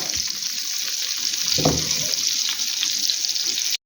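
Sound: cutlets frying in a pan

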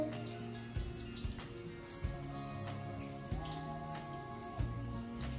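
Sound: washing skeleton leaves gently in water

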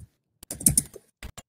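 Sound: typing on a computer keyboard

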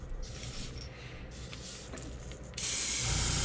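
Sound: airbrush spraying paint on a perch lure

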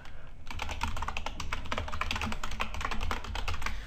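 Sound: typing credit card details on computer keyboard

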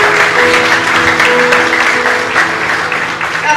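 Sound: audience applause

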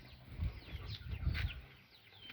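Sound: chickens clucking

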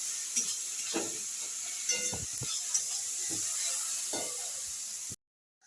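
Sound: spices with chilli powder frying in a pan

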